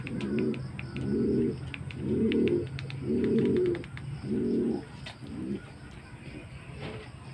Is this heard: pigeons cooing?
yes